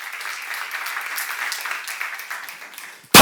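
Congregation clapping during a church seminar sermon, a soft, fairly distant patter of many hands that holds steady for a few seconds before cutting off abruptly into a sudden loud burst.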